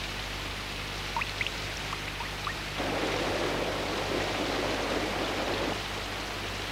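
Heavy rain falls in a steady, dense hiss that swells louder midway and then eases back, with a few faint higher tones drifting over it and no voices.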